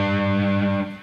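A brief, sustained electric guitar chord with heavy distortion rings out loudly, then starts to fade.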